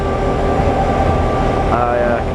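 Tilt Train passenger service between Brisbane and Rockhampton running along the line, a dense continuous rumble with a faint rising tonal whine near the end.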